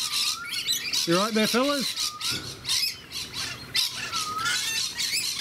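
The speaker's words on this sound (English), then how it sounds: "Excuse the lorikeet." A lorikeet squawks loudly overhead in harsh, rising bursts, with thin chirps scattered around them, while someone speaks outdoors beside a backyard fish farm.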